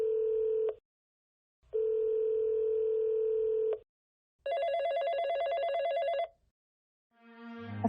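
A telephone rings in two long electronic bursts with a pause between, followed by a brighter, buzzier ring tone, loud and close with no talking.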